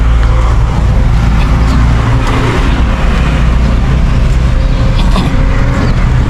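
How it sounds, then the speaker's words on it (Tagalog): A tricycle engine runs steadily and loudly, a continuous close motor drone with traffic noise mixed in and no talking. "Tricycle."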